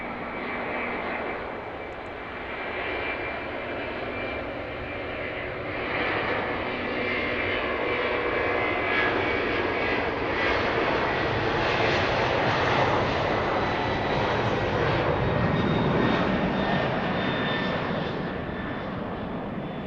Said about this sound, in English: That was quite loud. Airbus A300 headed off to Rockford, Illinois.